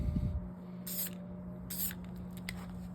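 A spray paint can spraying black paint in two distinct hissing bursts about a second each, close and crisp, followed by a few short faint puffs.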